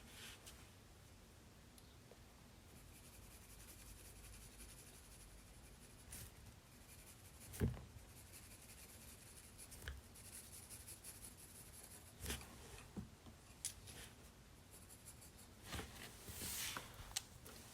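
A pencil drawing a portrait head on paper makes faint, close scratching and rubbing strokes in uneven bursts, with no talking.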